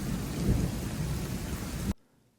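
Heavy rain pours steadily with a low rumble of thunder, loud and close, then cuts off suddenly to near silence.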